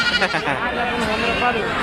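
Goats bleat at a large, busy goat market, with several wavering, overlapping calls mixed with nearby voices talking over them.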